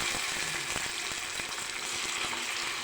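Fish pieces sizzle and crackle in hot oil in a pan, a dense close frying hiss sprinkled with sharp pops and a few light clicks, with no voices.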